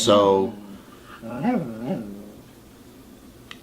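A dog whimpers for attention beside its owner on a couch, a loud whine at the start followed by two softer rising whimpers, close to the microphone, with a brief spoken word.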